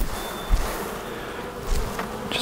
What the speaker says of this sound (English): I'm gonna get all the bees off of here